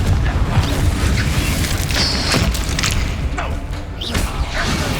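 Spell-casting combat in Hogwarts Legacy: a dense run of booming magical impacts, thuds and crashes, with a bright whooshing zap near the middle, loud and continuous throughout with little pause.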